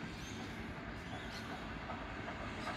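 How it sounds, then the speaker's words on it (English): A steam train rumbles past close by in a steady, heavy roar, with low clattering from the wheels and faint higher squeaks throughout. "Steam train, nice."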